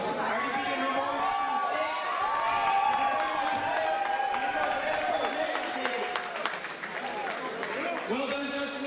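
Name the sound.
crowd applause and cheering for champion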